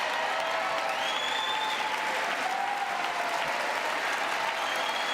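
Sustained applause from a large audience during a presidential State of the Union address, a steady dense wash of clapping that fills the whole stretch without a break.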